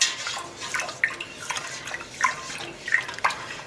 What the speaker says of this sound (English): I'm going to come over with our purple dye, rinse this out.